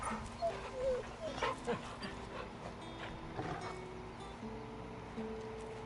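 A dog in Final Fantasy 16 gives short barks and whimpers, with game music and voices talking over much of it.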